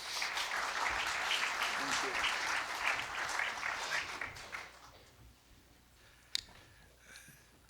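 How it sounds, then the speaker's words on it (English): Conference audience applause, a full burst of clapping that fades out after about five seconds, leaving a quiet room with a single sharp click near the end. "Give a round of applause."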